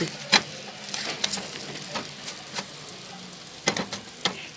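Moroccan msemen flatbread sizzles and fries in a pan as it is flipped, a steady crackle punctuated by several sharp clicks and taps of turning.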